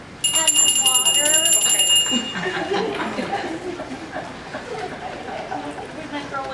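A small hand bell rings rapidly for about two seconds, then stops while several people keep talking and murmuring nearby.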